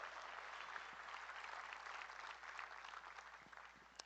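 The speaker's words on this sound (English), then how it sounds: "Folks, give them a big round of applause." An audience at the NAILE 2025 steer show gives a sustained round of applause, a dense, even wash of clapping from a large crowd heard at a distance and fairly faint.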